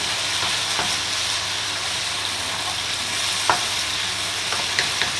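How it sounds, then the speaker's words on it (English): Bacon and mushrooms sizzle steadily in a frying pan, a dense, close hiss of frying broken by a few faint clicks of stirring. "just keep on cooking to get all the moisture out of the mushrooms"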